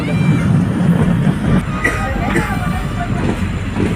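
A passenger train runs between stations in Assam, a close, continuous rumble and rattle from inside the carriage, with a murmur of voices mixed in.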